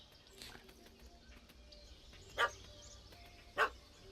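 A puppy in the video game The Witcher 3 barks twice, two sharp separate yaps about a second apart, over quiet ambient game background.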